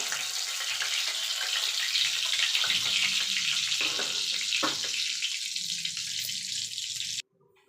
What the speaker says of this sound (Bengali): আর বাকি যে দুটো আছে সে দুটো আমি ভেজে নেব